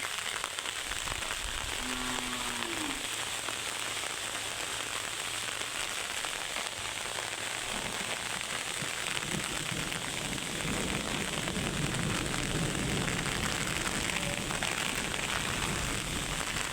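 Storm with heavy rain falling steadily and close on surfaces outdoors near trees, a dense continuous wash of patter with gusty rushing noise throughout, and no talking.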